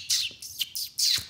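A beatboxer imitates birds chirping, giving four quick, bright whistled chirps in a steady rhythm, close and clear, alone with no other sound.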